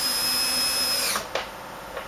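A power drill tightening a screw into a frame post, a high steady whine that cuts off after about a second, followed by a couple of faint knocks.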